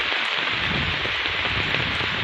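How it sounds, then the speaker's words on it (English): Heavy downpour of rain in Paynesville, a steady dense hiss of rain falling on surfaces, close and constant throughout with no voices. "Several houses here are already at risk following what is to be a heavy downpour of rain."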